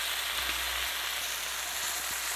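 Fish frying in hot oil, with a steady, close hiss and crackle that holds evenly throughout, plus a couple of faint soft knocks underneath.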